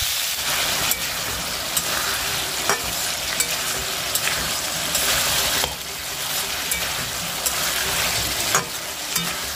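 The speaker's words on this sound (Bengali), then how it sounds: "এখন বাটা মশলাটা সহ পেঁপেটা আর একটু ভালো করে ভেজে নেব" Papaya fries with ground masala and a little turmeric in a pan, a loud constant sizzle with regular scrapes and clicks from stirring, close up and without voices.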